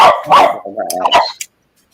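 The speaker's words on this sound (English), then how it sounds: "That sounded like my doggy a few minutes ago, Nani." A dog barks several times in quick succession, fairly close and loud, with a short yelp near the end before the sound stops.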